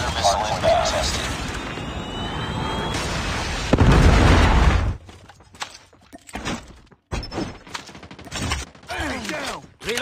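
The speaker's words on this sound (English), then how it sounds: "Good predator missile inbound" A predator missile strike in Call of Duty Mobile lands as a loud, booming explosion burst, followed by scattered gunfire pops and game voice callouts.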